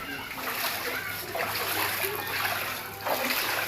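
Feet splash and slosh steadily through flood water outdoors, a continuous wet churning with voices nearby.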